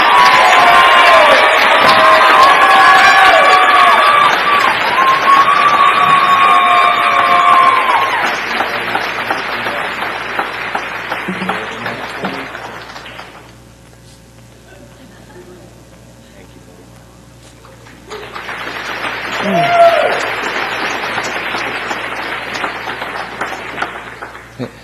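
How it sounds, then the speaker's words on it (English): Applause from a large audience at a teacher awards gala, loud and sustained clapping with some cheering that fades after several seconds to a quiet pause before a second burst of clapping swells back. "let us have a round of applause"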